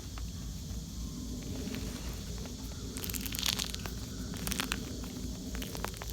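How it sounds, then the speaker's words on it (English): A dried loofah shell crunches and crackles as it is squeezed by hand, a steady crisp rustle with sharper bursts of crackling near the middle and end, close up with no talking. "That is the shell separating from the loofah inside."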